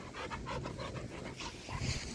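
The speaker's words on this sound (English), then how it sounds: "I have to be careful because there's another dog" A dog pants rapidly and steadily while out on a walk, heavy rhythmic breaths close to the listener with no talking.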